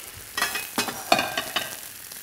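Romaine lettuce roasting with garlic in a pan, soft sizzling broken by several sharp stirring clatters, close and fairly loud.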